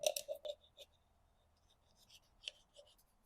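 A marker scribbles on parts of a BMW M57 turbo diesel engine in short, quiet, scratchy strokes close by, with a few soft squeaks and pauses between marks.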